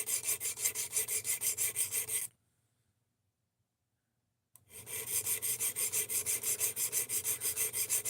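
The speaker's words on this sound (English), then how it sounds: "this stone is kind of sliding across instead of biting in" A Rex 121 steel knife edge is drawn across a sharpening stone in quick rhythmic rasping strokes, close and loud, stopping for about two seconds before the steady scraping resumes.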